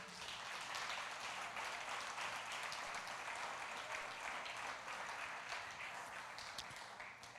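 Sustained applause from a large church congregation, a steady dense wash of clapping that holds evenly throughout at moderate distance.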